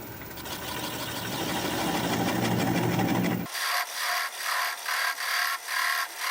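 A 3/8 inch swept-back bowl gouge cuts a wooden winged bowl on a lathe: a dense, continuous scraping hiss that then breaks into rhythmic, pulsing bursts as the spinning wing edges meet the tool.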